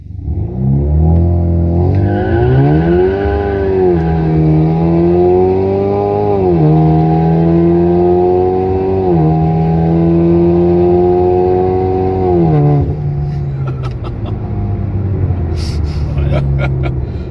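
A turbocharged four-cylinder 2017 Chevrolet Camaro accelerates hard on a public street. The engine note climbs steadily through long pulls with brief dips at each upshift, loud and close from inside the car, then eases off near the end.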